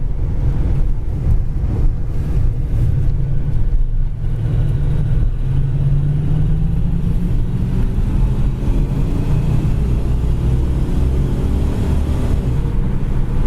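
A red 1981 Pontiac Firebird cruises down the road at speed, its engine a steady low drone mixed with road and wind rush that runs continuously at constant volume, with no talking.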